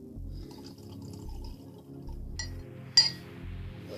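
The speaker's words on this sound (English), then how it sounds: "we are going to add some water to it" Water pours into a glass of vodka with a few soft clinks and a brief splash near the end, close and fairly quiet over a low background hum.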